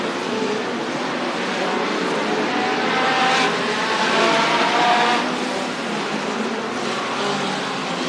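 Race cars roar around a racetrack in a continuous engine drone that swells and fades as the heavy field passes down the backstretch, loud and steady without pause.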